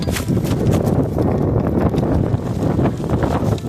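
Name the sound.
strong wind outdoors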